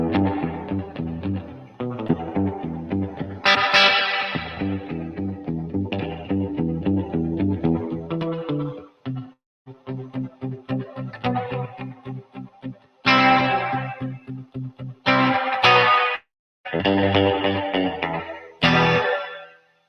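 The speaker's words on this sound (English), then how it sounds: "this one sounds particularly great when you're doing kind of faster reverb sound" An electric guitar played through a Universal Audio reverb pedal gives distorted, shimmering chords and phrases drenched in echoing effects, with sharp stops and bright bursts, loud and up close.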